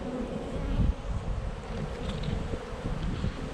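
Honey bees buzz steadily around open hive frames during a nuc split, a close, continuous drone with wind rumbling at the microphone.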